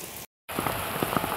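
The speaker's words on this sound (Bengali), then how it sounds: "কি হারে বৃষ্টি হচ্ছে" Heavy rain pours steadily on surfaces at an outdoor picnic spot, a dense loud hiss with close drop impacts, cut by a short gap of silence near the start.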